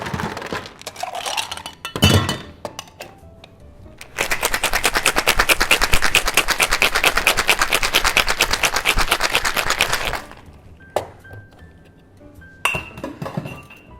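A cocktail shaker full of ice is shaken hard for about six seconds, a fast, loud rattling rhythm. Clinks and taps of glassware come before and after it.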